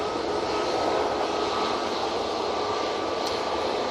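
An airliner touches down at Manchester Airport, its engines a loud, unbroken roar and rush of air with a thin whine on top, continuous for a few seconds with no talking.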